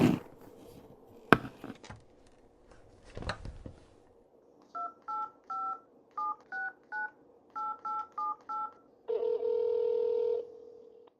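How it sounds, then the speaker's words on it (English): A telephone gives a few clicks and knocks, then beeps as about a dozen keypad tones are dialed in a quick rhythm, followed by a steady ringing tone, all close and clear. "Detective Romero decided to contact the witness's mother again, this time by phone"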